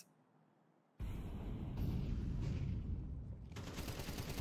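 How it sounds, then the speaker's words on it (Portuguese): Counter-Strike gunfire in a competitive match: a sudden dense burst of rapid shots that starts after a quiet second and keeps going loud and continuous, with no talk over it. "encaixou os disparos pra cima do BR Nizan"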